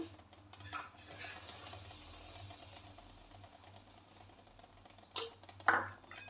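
Hot oil poured into kachori dough in a kitchen and stirred with a spoon, a soft sizzling scrape with faint clinks, ending in a couple of sharper spoon knocks near the close.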